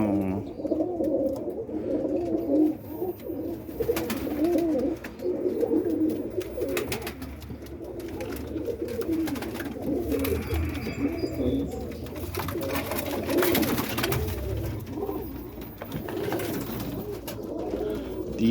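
Pigeons coo steadily in a loft of racing birds on a Monday morning, overlapping throaty calls continuing throughout at moderate loudness with faint background rustling.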